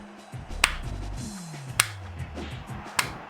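Three sharp, isolated hand claps, spaced roughly a second apart, ring out over soft background noise and low murmuring.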